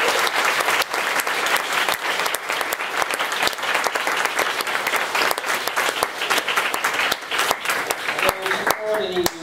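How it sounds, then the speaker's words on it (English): At the end of an animal-welfare panel discussion, a room full of people applauds with dense, sustained clapping for about nine seconds, steady and moderately loud before it starts to thin out at the close. "Let's give a final round of applause."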